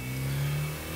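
A car engine revs in the Gran Turismo racing game, a steady, loud, droning mid-pitched whine that holds high revs and dips slightly without any voices over it.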